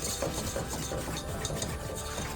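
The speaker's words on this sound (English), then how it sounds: "whisk, whisk until you get that nice creamy consistency right here" A roux being whisked steadily in a pot on the stove, with a continuous scraping, stirring rhythm of whisk against metal, close and moderately loud.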